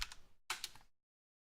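Keystrokes on a computer keyboard as a command is entered into a game-server control panel, two quick bursts of clicky taps close by, then silence.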